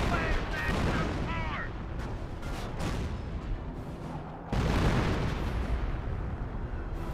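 Creeping artillery barrage in the World War II strategy game Company of Heroes, a dense rumble of distant shell blasts and booms rolling on continuously, with a louder surge of impacts midway and a voice talking over part of it.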